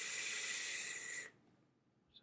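Steady, loud broadband airflow hiss drawn through a Rashomon RDA atomizer, lasting about a second and a quarter before cutting off into near silence.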